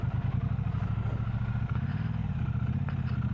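Triumph Bobber motorcycle riding at a steady pace, a loud continuous low engine thrum with clattering mechanical texture and wind noise, close and unbroken throughout.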